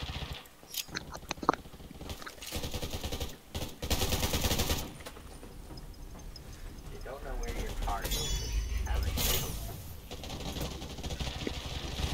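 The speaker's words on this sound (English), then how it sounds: "I'm hitting him with a machine gun and ain't doing no damage" Machine gun fire in the survival shooter game Undawn comes in rapid bursts with short pauses, mixed with game noise and a voice talking throughout.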